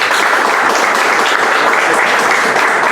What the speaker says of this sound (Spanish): reencontrarnos con Welmer Cárdenas, a quien pido un fuerte aplauso.